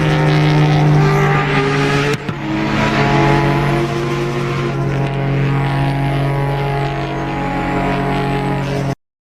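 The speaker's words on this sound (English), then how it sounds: "So those sort of car sounds, they sound more realistic." A loud, steady engine drone with strong harmonics, a brief dropout near two seconds, then rising and falling revs like a race car at speed, from the racing video game Forza Horizon 6.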